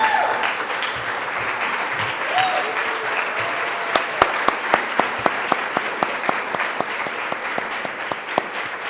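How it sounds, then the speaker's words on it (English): A school audience gives students a standing ovation, with sustained clapping and crowd noise that swells into sharper individual claps, loud and filling the room. "Can I get a standing ovation for these students,"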